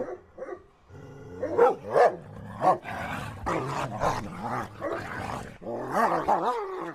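A severely disturbed dog in an animal shelter barks and yelps repeatedly, loud and close, in a string of harsh, uneven barks with some growly tone between them.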